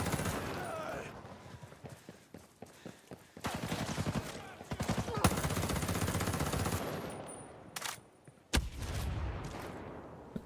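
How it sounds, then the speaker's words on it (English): An M4A1 rifle in the video game Ghost Recon Breakpoint fires rapid, sustained bursts, loud and dense, with short pauses between strings of shots and a few single cracks near the end. "The standard M4A1 tactical does not shoot this fast."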